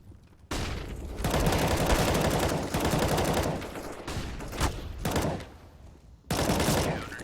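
Automatic gunfire in a CS:GO match crackles in several loud bursts separated by short pauses, sharp close shots during a LAN tournament final round.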